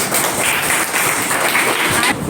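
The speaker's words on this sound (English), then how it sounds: "So everyone please have a big round of applause for these girls." Round of applause for a group of schoolgirls after their singing at a school Eid ul Adha event, steady broadband clapping from a hall audience filling the whole stretch without talk.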